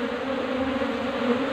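Honeybees buzzing around a cultivation hive box, drones among them, a steady continuous droning hum close by with no voices.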